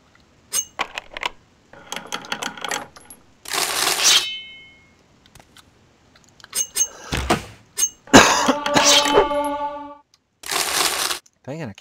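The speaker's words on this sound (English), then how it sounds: "Sorry I keep coughing in your ear, but it catches me by surprise." A man coughs in a few sharp, harsh bursts, close to the microphone, among clicks, clatters and other sound effects from the role-playing game Morrowind.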